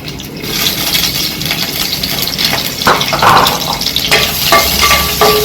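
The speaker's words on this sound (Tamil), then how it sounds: "இப்போ நம்ம நறுக்கி வச்சிருக்கிற முருங்கைக்காய் ஃபஸ்ட்டு கொஞ்சம் வதக்கிக்கலாம்." Drumsticks sizzle and crackle in hot sesame oil, with the scrape and clink of stirring; close up, no talking.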